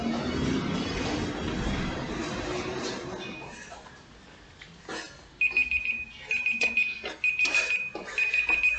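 Workout interval timer alarm at a boot camp session, a series of high electronic beeps repeating in short bursts after a stretch of noisy gym background.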